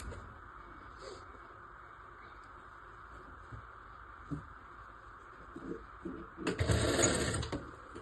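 Sewing machine stitching a one-year-old baby's frock: a brief fast whirring run of stitches near the end, close and loud, after quiet fabric handling.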